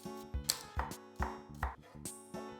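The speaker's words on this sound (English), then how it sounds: "I then roughly chop dried tomatoes and add them as well." A kitchen knife roughly chopping dried tomatoes on a board: about eight crisp, evenly spaced chops, close and fairly quiet, with no talking.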